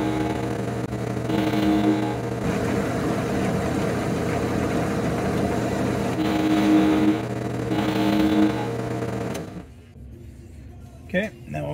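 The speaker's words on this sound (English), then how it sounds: "So what we're going to do now is we're going to drop it in on some parallel bars, then we're going to machine the two flats." A milling machine takes two flat cuts across a metal part held on parallel bars, a steady loud motor hum with a grinding cutting texture that continues for about nine seconds, then drops away to quieter workshop noise.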